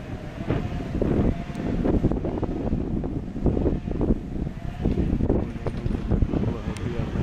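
Gusty wind buffets the microphone in loud, rough surges outdoors while pigeons are tossed up, with occasional speech beneath the roar.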